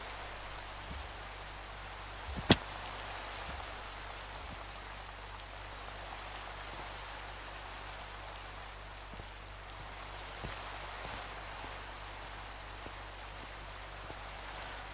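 Rain falling in Minecraft, a steady soft wash of droplets hissing evenly throughout, with a single sharp click near the start and no talk.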